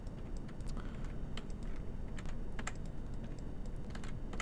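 Rapid, dense keystrokes on a loud mechanical computer keyboard, near and continuous for a few seconds, sharp clicks over a constant low hum with nobody speaking.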